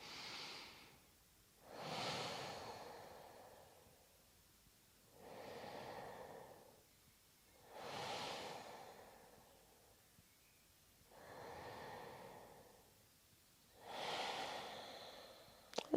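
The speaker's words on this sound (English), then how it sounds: "Taking 3 deep life-affirming breaths," Six slow, deep breaths during a hatha yoga flow, each a soft drawn-out whoosh of air in and out, evenly spaced by quiet pauses, close and gentle with no talking.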